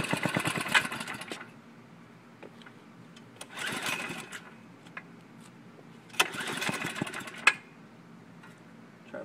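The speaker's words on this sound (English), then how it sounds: "These engines don't start very easily." Small go-kart engine on a Manco Terminator kart being pull-started, giving three rough bursts of sputtering, rattling combustion that catch briefly and die away between pulls.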